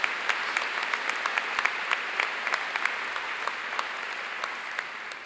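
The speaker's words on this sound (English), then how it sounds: "let's give that guy a round of applause." An audience at a commencement ceremony applauds in steady, sustained clapping with distinct individual claps standing out, filling the space evenly for a few seconds without talk.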